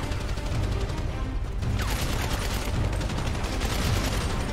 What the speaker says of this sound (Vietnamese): nó bắn bazooka mấy cha ơi